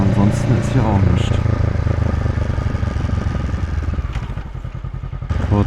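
A motorcycle on a home road rides past with a short burst of acceleration, its engine note rising and shifting gears, loud and close.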